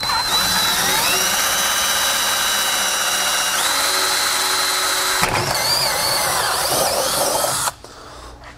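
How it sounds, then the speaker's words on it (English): A cordless drill with a low battery whirs steadily at high speed, its pitch dipping and shifting as it bores a hole to install an internal splice box, then cuts off abruptly just before the end. "we've got the hole drilled now"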